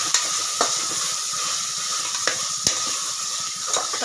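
Chopped tomatoes sautéing in a pan for basmati chicken biryani: a steady crackling sizzle, heard up close, broken by a few sharp clinks and scrapes of a spoon against the pan. No one speaks.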